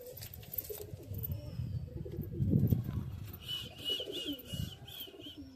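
Local deshi pigeons in a home loft coo in low, repeated rolling calls at close range, with a few higher chirps and rustling around them and no talking.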